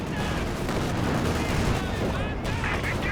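Artillery barrage shells landing in a Company of Heroes 2 battle, a dense, continuous rumble of distant explosions and crackling impacts with no clear gaps, while a voice talks over the din.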